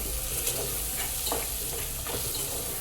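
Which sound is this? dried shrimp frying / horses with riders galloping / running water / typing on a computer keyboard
dried shrimp frying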